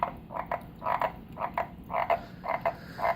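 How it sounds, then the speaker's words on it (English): A frog croaking inside a vivarium, a repeated series of short rhythmic croaks in close bursts, fairly near and clear, with no talking. "but that croaking kind of throws me off"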